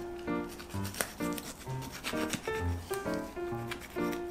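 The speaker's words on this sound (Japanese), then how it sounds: "これワニね、こうやって皮剥がしていきたいんですけど、ここをちょっと切らないとね、剥がせないんで、ここ切っていきます" A knife saws and scrapes through the neck of a crocodile over 100 kg being skinned, repeated short rubbing cuts in an uneven rhythm, close and fairly loud with no talk.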